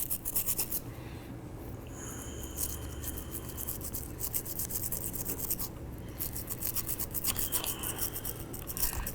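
A brush scrubbing a dirty Taurus Ultra Lite .38 Special revolver, close rapid bristle rasping in quick back-and-forth strokes with a few faint metallic ticks, no voices.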